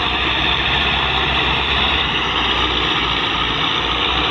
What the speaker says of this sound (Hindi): इंजन नवा है ट्रैक्टर का